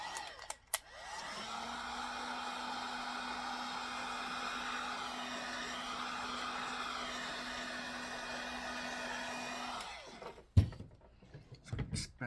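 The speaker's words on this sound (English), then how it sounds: "So let me just heat this gun." A heat gun blows hot air while tubing is fitted on a fencing reel, a steady whooshing hum with a faint tone running for about nine seconds, then switching off with a few clicks and handling noises.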